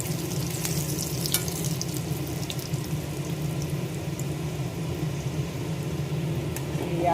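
Kachori deep-frying in a pan of hot oil in a home kitchen, giving a continuous bubbling sizzle at close range with faint clinks and no voices.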